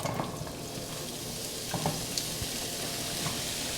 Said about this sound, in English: we finna get ready and saute these vegetables up